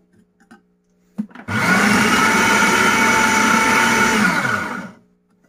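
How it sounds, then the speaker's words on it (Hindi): An electric food chopper whirring loudly as it chops a chicken nugget mixture of chicken, ground black pepper and seasonings, starting after a couple of clicks and running continuously for about three seconds before cutting off, with no talking. "उसके बाद दोबारा हम इसको चॉप करेंगे।"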